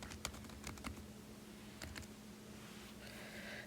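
Light keyboard typing on a computer keyboard as a name is entered in an app: a handful of quick, faint key clicks in short bursts, close and alone, over a quiet room hum.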